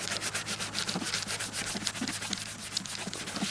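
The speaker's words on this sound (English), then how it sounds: "You gotta scrub pretty hard, but if you had a Scotch Brite pad, it might help a little" Old paint is scrubbed hard by hand on an engine part, giving quick rhythmic rubbing strokes that are close and fairly soft, with no voices.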